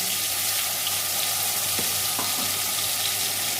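Onion paste with whole cardamom, cinnamon and cloves, plus ginger-garlic paste and ground cumin, coriander and dried chilli, frying in a pan, a steady broad sizzle throughout with a few faint scrapes of stirring, no talking.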